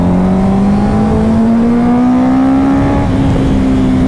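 A Honda CBR 650F motorcycle revs while being ridden on roads around Jammu, its engine note loud and close, climbing steadily in pitch and then easing off as the rider shifts, with no talk.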